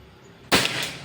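A single sharp crack from a Pajero Gun air rifle fired during an accuracy test, loud and close, cutting into quiet surroundings and trailing off in a short decay.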